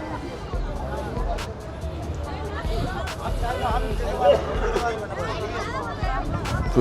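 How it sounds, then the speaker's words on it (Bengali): A dense crowd of visitors at Sajnekhali Wildlife Sanctuary in the Sundarbans fills the air with continuous overlapping chatter and babble, close around and fairly loud throughout. "প্রচুর ভিড়।"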